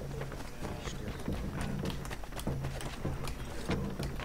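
A horse's hooves clop steadily in Assassin's Creed 3 as the rider moves through Boston, a rhythmic game footstep pattern at moderate loudness over low ambient game sound, with no talking.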